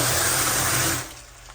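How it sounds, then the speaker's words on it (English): Water pours from a tap on a rural water supply in Mindanao, a steady broadband rush that runs loudly for about a second and then drops to a quieter flow. "I wouldn't say the water pressure's great, but at least it's working."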